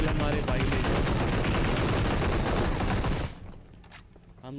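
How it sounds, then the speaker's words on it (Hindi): Gunfire in the mobile game PUBG Mobile comes as a dense, loud burst of rapid shots lasting about three seconds, then cuts off to quieter game sounds. "ये मेरे पे फायरिंग भी करता है।"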